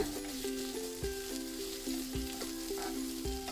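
Two large chopped onions sizzle steadily in hot oil in a pan for tomato chutney, a close, continuous frying hiss punctuated by a few soft stirring clinks at regular intervals.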